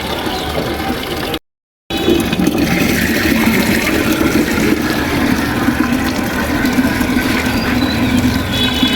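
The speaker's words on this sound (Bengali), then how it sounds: "তো এখন গাছে দিয়ে দিচ্ছি পানি" Water gushes steadily onto plants on a rooftop, a continuous, fairly loud rushing and splashing that runs almost unbroken after a brief cut near the start.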